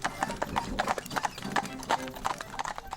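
Horses trot on a hard road, hooves clip-clopping in a quick, uneven rhythm of sharp knocks at moderate distance, with no talk over them.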